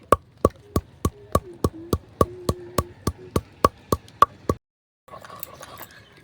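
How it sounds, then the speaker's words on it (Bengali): Orange peels being ground to a paste on a shil-nora stone make a run of about fifteen sharp, evenly spaced knocks of the stone muller, close and distinct, then a short silence and faint scraping; no voices. "শিলনোড়াতে একটু একটু দেরি হবে কিন্তু শিলনোড়াতেও বাটা যাবে"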